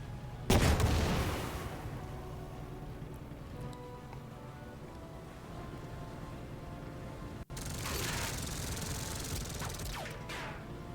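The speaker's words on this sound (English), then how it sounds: "I'll hit these machine guns on the beach with my tank." A tank fires on machine-gun positions on a beach in the World War II turn-based tactics game Headquarters: World War II, with two loud cannon blasts several seconds apart and a low mechanical rumble between and after them.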